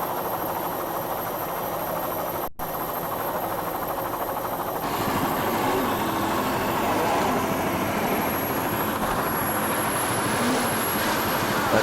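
A helicopter's steady, droning rotor-and-engine roar fills the scene continuously above a sailboat race, loud and unbroken, with a brief dropout early on.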